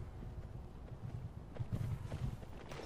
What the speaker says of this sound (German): Er hat ein Pferd